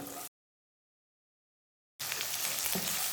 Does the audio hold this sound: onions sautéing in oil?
yes